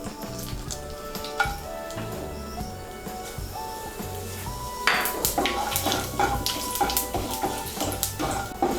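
A bay leaf, whole cumin and whole garam masala of cinnamon, cloves and cardamom sizzle in hot oil in a pan. The sizzle is soft and steady, with faint clinks of a utensil over a low tonal background.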